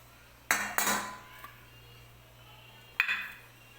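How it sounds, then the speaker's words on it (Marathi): A metal modak steamer tray being handled while its inside is oiled, giving two clanking metal knocks a couple of seconds apart, each with a ringing tail, close up in a quiet kitchen. "इथं मी घेतलेली आहे मोदकाची चाळण. हे बघा, तर याला आतून तेल लावून घेणार आहे मी."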